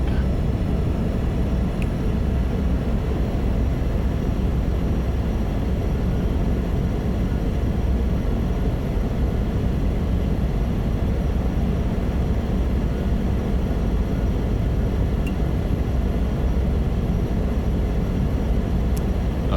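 Steady droning hum of a Cessna 208B Caravan turboprop engine spooling up in Microsoft Flight Simulator 2024, heard from inside the cockpit, continuous and even with no pauses.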